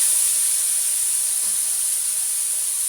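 Ridge gourd pieces fry in a pan, giving off a steady, loud, unbroken sizzle and hiss that holds even from start to finish, with no voices.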